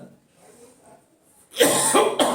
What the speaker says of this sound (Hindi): थोड़ा खांसी आ रही है यार